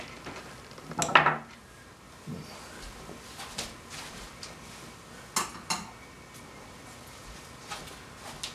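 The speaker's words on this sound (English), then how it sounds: "Put all the screws in a little dish here and see what we got." Small square-drive Robertson screws from a 2004 Japanese-made Tele guitar clink into a little dish: a bright metallic rattle, then scattered lighter taps and a few more jingles, close and quiet with no speech.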